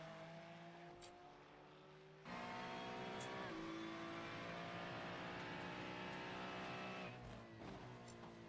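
A Ferrari racing car revs and pulls away, its engine tone climbing in rising sweeps, louder after a sudden jump in level, with squealing pitch shifts near the end.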